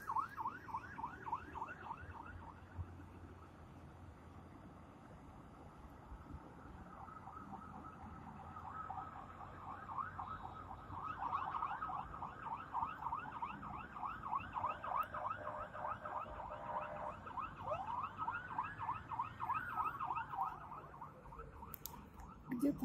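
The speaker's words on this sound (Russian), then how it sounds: "Скорая понеслась и две пожарные машины." An ambulance and two fire engines race along with wailing sirens, a continuous distant warbling that swells gradually over a steady street hum.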